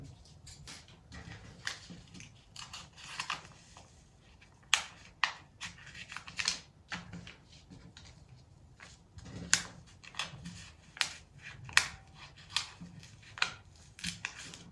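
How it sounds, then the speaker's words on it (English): Repeated crisp scissor snips, irregular in rhythm, cutting through fabric close by, each snip short and sharp with quiet pauses between. "I'll use a scissors to cut out the shape of the pattern"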